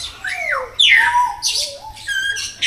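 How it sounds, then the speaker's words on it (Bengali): Parrots and cockatoos in an aviary cage at Gazipur Safari Park squawk loudly, with several harsh, overlapping calls rising and falling close by, and no talk. "তো ওরা খুব আওয়াজ করতেছে, ওরা খুব ডাকতেছে।"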